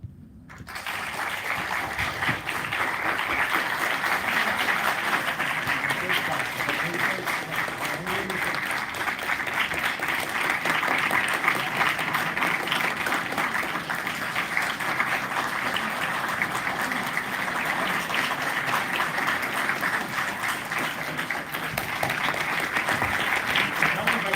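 Large audience in a college hall clapping together in a group activity, continuous loud dense applause sustained for the whole stretch after a brief quiet start.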